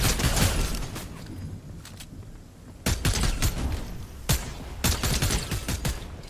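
Rapid bursts of gunfire crackle through a video game battle in a competitive duos match, with several dense volleys separated by brief lulls, loud and close.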